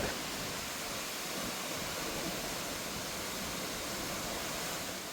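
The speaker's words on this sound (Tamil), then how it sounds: "கிட்டத்தட்ட 60 மீட்டர் உயரத்துலேருந்து இந்த அருவி வந்து விழுகுதுங்க." Waterfall plunging from about 60 metres at Vagamon, a steady broadband roar of falling water that holds at an even level throughout, with no voices.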